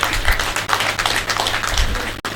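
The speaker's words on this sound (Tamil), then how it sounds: "நீங்க பேச்சு முடிஞ்சதா நினைச்சு கைதட்டுறதா நினைக்கிறேன்." Audience applause in a hall during a Tamil public speech, a dense, steady patter of many hands clapping that runs without pause, with no talking over it.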